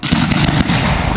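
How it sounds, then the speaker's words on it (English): Fireworks at a professional pyrotechnics show go off in a dense, loud barrage, rapid overlapping bangs and crackles packed into a second with no pauses. "A real fireworks show."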